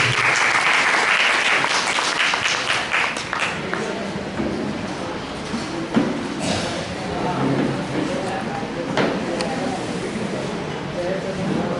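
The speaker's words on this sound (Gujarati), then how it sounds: "આપણે એમને તાળીઓથી વધારીએ." A crowd at a 50th wedding anniversary celebration applauds loudly and steadily, a dense wash of clapping that holds for the whole stretch, with voices audible beneath it.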